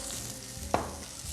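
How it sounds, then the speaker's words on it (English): Stuffed squash blossoms seasoned with black pepper fry in a pan, giving a steady, soft sizzle close by with one brief clack partway through, and no voices. "I'm gonna basically let them cook for a little bit and I'm gonna turn them."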